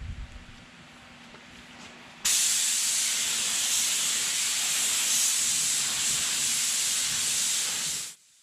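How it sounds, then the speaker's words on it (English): A spray gun lays white paint onto the firewall of a 1935 Chevy, a loud steady hiss starting abruptly and running about six seconds before cutting off, with faint shop noise before it. "We got the white paint loaded in the gun. We're going to get her all covered up with some white tonight so it can dry"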